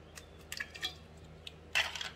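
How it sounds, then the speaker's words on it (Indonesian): Four eggs are cracked into a bowl while making batter for a steamed palm-sugar sponge cake, giving a few quiet, sharp cracks and small wet taps spread over a couple of seconds, close and faint. "Kita pecahkan 4 butir telur."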